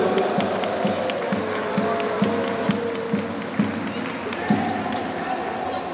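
An audience claps steadily at a dragon tournament closing ceremony, with sustained applause and rhythmic beats running underneath.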